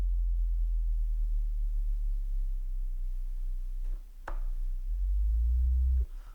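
A Behringer Model D synthesizer holds a very low oscillator tone, a deep steady rumble that shifts in pitch, with a couple of faint clicks and knob noises, moderately quiet and with no talking.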